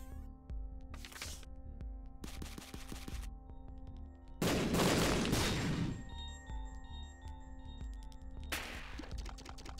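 Bombs explode in The Binding of Isaac amid busy game music, with several short bursts and one louder, longer blast in the middle.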